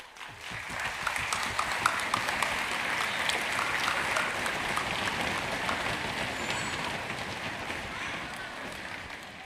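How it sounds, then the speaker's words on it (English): A large audience at a school district orchestra festival applauds loudly for elementary teachers and principals, a sustained, dense roar of clapping that continues for several seconds with faint voices mixed in. "we're going to clap really loud for you"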